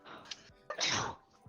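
A single sneeze from a person during a cosy tabletop role-play session, a sharp intake then a loud breathy burst up close, with faint murmuring before it.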